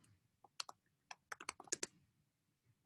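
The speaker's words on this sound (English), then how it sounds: "I'm typing nonfiction" Keys clatter on a computer keyboard in quick bursts of separate clicks, close and fairly quiet, with short pauses between the runs of typing.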